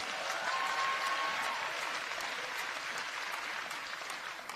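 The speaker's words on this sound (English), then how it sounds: "Let's give a big round of applause" Audience applause at a public event, a dense, continuous wash of clapping from many hands that stays steady and slowly eases toward the end, with a faint voice briefly audible early on.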